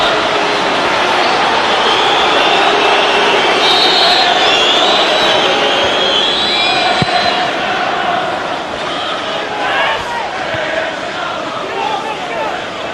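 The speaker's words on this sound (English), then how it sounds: "It's the Everton crowd that are singing." Everton fans sing in the stands during a match against Manchester City, a broad, steady stadium chant that fills the background while a commentator talks over it.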